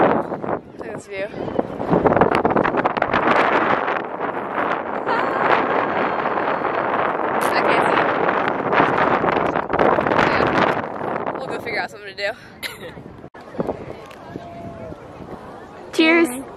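Strong wind on the top of Stone Mountain buffets the microphone in loud, continuous gusts, with people talking and laughing over the roar.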